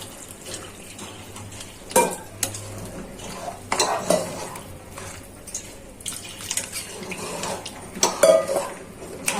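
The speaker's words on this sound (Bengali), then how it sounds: "মাংসটা কষানো হয়ে গেছে। এখন সাথে দিয়ে দিচ্ছি ঝোল।" Broth poured into a pan of braised beef and chickpea curry, with clattering pot and spoon knocks, splashing liquid and stirring, moderately close and uneven, with a faint low hum underneath.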